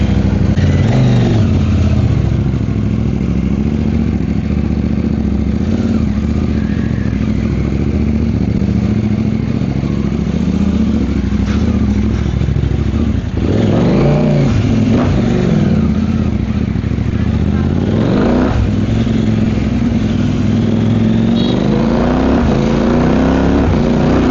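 A motorcycle runs with its exhaust silencer removed on a mountain trail ride near Mt. Buntis, Maragondon, Cavite, giving a loud, continuous open-pipe engine drone that swells as it revs, close and steady with no talking.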